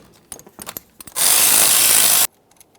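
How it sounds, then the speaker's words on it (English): A power tool whirs in one loud, steady burst of about a second while loosening the caliper slider bolts on a 2002-2005 Ford Explorer, preceded by a few light metallic clicks and taps of tools. "We'll just use our 14mm to remove our 2 caliper slider bolts."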